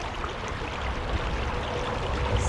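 River water rushes and gurgles steadily and up close during a crossing on foot near a waterfall, a constant broadband flow with no voices over it.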